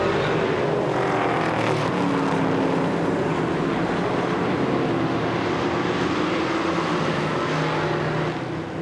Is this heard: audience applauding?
no